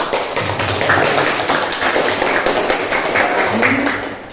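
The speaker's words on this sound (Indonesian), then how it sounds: "Tepuk tangan buat Sita" Fifth-grade classmates clap for a pupil who has just presented a pantun in class, producing a loud, rapid, continuous patter of handclaps with a faint background hum.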